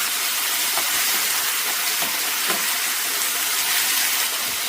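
Tomatoes for chutney sauté in a hot pan, giving a steady, close sizzle and hiss with faint crackles throughout.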